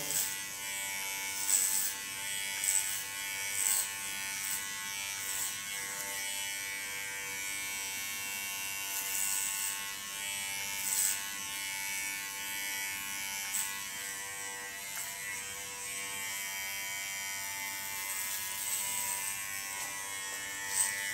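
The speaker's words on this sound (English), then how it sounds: "with the tip of my clipper comb, make a soft connection to the front" Electric hair clipper buzzing steadily while cutting hair for a punk rock hairstyle, a close, continuous whine with brief louder bursts as the blades work through the hair.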